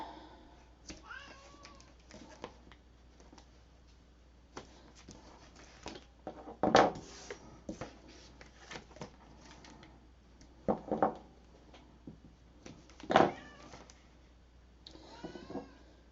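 A cat meows repeatedly and insistently for food in a quiet room, several cries spread out with faint handling noises in between.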